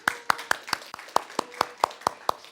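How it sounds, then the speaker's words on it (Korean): A church congregation in Mokpo claps for their chairman during a Saturday service, producing about a dozen crisp, evenly spaced claps in a steady rhythmic beat, close and clear with no talk over them. "우리 박수 한번 보내십시다"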